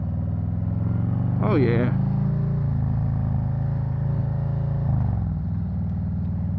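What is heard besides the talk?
Snake Venom Road Glide Special motorcycle riding through turn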